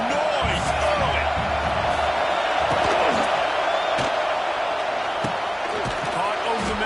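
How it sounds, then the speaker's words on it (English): Dense crowd roar fills a stadium during a college football game, a steady loud wash of cheering and shouting with occasional whoops and thuds throughout. "This crowd bringing the energy and noise early."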